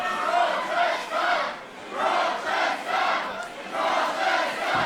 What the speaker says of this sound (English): This crowd who have been vocal in support of their favourites all night